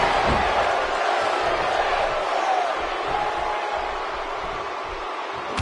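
A packed arena crowd cheers during a WWE 2K17 wrestling video game match, a broad, steady roar that holds throughout with scattered shouts on top.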